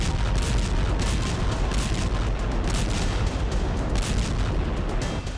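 A dense barrage of booming blasts and rapid cracking detonations from ballistic missile launches and explosions, loud and continuous with no pauses.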